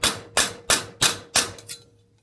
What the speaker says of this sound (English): flip your metal over and hammer from the backside with your rubber mallet